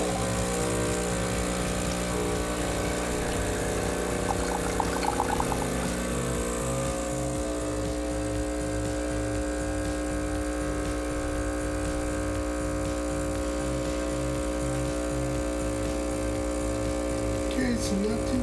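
A Gaggia espresso machine with a bottomless portafilter pulls a shot, its steady vibratory pump hum running continuously with a regular pulsing thrum throughout, moderately loud and without talk.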